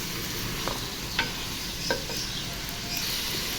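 Garlic-ginger paste fries in a kadai with a steady, close sizzle, broken by a few scraping stirs; no voices.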